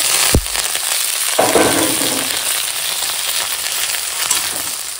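Pumpkin, papaya and ridge gourd fry in a pan with oil, a steady close sizzle. An early clank and a brief stirring rustle sound over it.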